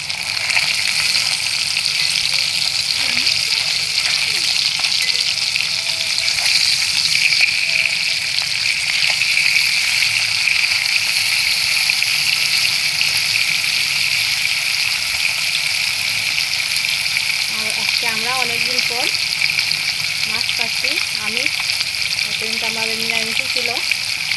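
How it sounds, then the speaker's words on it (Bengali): Fresh rohu fish frying in a pan for a light curry: a steady, loud oily sizzle runs the whole way through, with a brief voice murmuring faintly near the end. "এবার আমি মাছটা উলচিয়ে দেবো"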